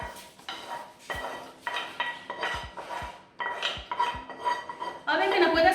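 A wooden spoon scrapes and knocks around a baking dish during eggplant parmesan preparation, giving a series of uneven rasping strokes and light clattering taps close by, ending in a louder burst of scraping.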